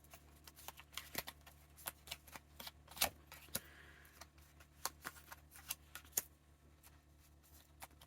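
Tarot cards being drawn out and handled, heard as faint, close, irregular papery flicks and soft snaps scattered across the clip with no talk.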